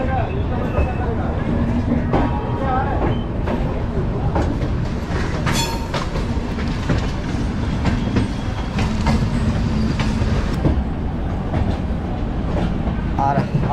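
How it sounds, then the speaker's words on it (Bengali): Poorva Express passenger train rolling on rails after leaving the platform, a loud steady rumble with rhythmic clickety-clack of wheels over rail joints and occasional squeals, continuous throughout. "তো ট্রেন অলরেডি ছেড়ে দিয়েছে 9 নম্বর প্ল্যাটফর্ম থেকে"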